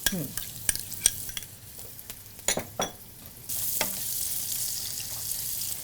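Spice paste hits hot oil and sizzles while a utensil scrapes and stirs in the pan, clattery stirring taps first, then a steady loud frying hiss taking over midway.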